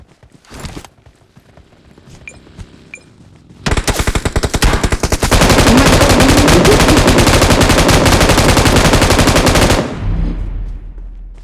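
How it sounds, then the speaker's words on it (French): Gunfire in the video game PUBG Mobile starts as a few faint distant shots, then becomes loud, close, sustained automatic fire lasting several seconds before cutting off abruptly. "on est en train de nous tirer dessus"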